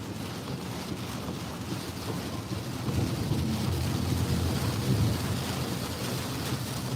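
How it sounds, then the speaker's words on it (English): Storm wind buffets a car, a steady low rushing roar with gusty swells that grow slightly stronger midway and stay constant throughout. "I can hear that wind blowing against his car."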